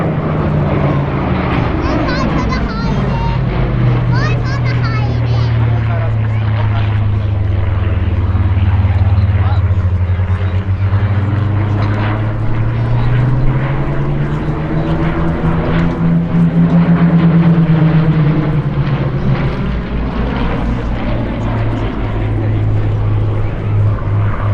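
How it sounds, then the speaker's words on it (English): Two Hawker Hurricane fighters sweep past at an airshow, their piston engines droning loud and rising then falling in pitch as they cross overhead, continuous and dominant for the whole pass. "In from the left we have our Hurricane pair, Trevor Dugan and Gabriel Barton."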